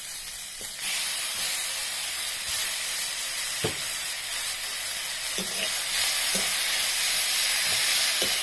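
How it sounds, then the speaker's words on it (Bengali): Ground spice paste frying with lightly browned onions in oil, for a duck and chicken dish, gives a loud, steady hissing sizzle close by, with a few soft knocks of a spoon in the pan. "পেঁয়াজটা একটু ভাজা হয়েছে, সেই বেটে রাখা মশলাটা দিয়ে দিলাম।"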